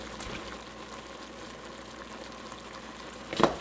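Three pounds of ground meat brown in a pan with a steady, soft sizzle and crackle, ending in a brief louder clatter of stirring.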